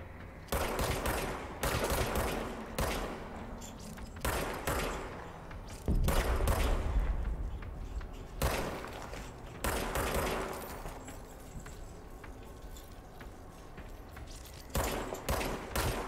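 Bursts of gunfire from the video game Control, repeated volleys spread across the stretch with short gaps between them and a loud thump partway through.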